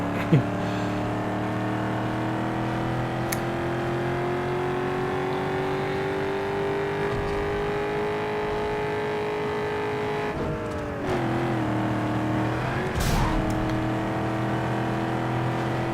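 Engine of a street car in Need for Speed Underground 2 droning steadily with rising and falling revs, a shift-like dip around the middle and a brief harsh burst near the end, close and continuous.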